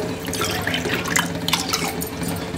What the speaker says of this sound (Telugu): మనం 5 కప్స్ ఆఫ్ వాటర్ అనేది అందులో పోసుకోవాలి